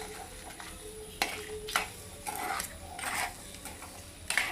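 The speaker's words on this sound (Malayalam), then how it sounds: "ഇത് നന്നായിട്ടൊന്ന് ഇളക്കി മിക്സ് ചെയ്യുക." Someone stirs crab curry in a pan with a soft sizzle underneath and several sharp spoon clacks and scrapes against the metal, heard up close and fairly quiet, with no talking.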